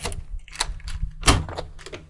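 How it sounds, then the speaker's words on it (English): Close metallic clicks and rattles of a key turning in a Mul-T-Lock on a back door, several sharp ticks with one louder clunk near the middle, no talking. "and door is unlocked."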